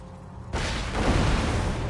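A thrown grenade in a video game bursts like a firework: a sudden loud broadband blast after a quiet half-second, followed by sustained crackling and rumbling.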